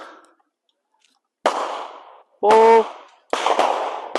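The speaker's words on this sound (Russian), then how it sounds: "мы сейчас попробуем стрелять" A borrowed shotgun fires at a sporting compact clay-shooting range: sharp, loud blasts ring out, separated by a brief shouted exclamation, each cracking abruptly out of near silence.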